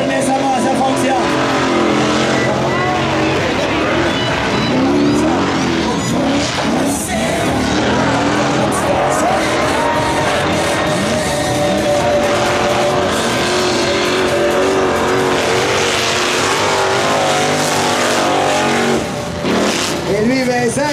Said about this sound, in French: Donc il se donne ça plein gaz pour Vincent gagner.